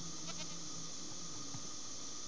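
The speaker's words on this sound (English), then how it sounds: "Okay, so goats are still spawning." A goat bleats in the Minecraft video game, giving a couple of short, faint cries over a quiet, steady background with no talking.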